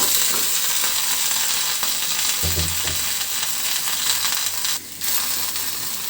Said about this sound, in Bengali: এখানে কড়াইটা বসিয়ে দিলাম। দিয়ে দিচ্ছি পটলগুলো।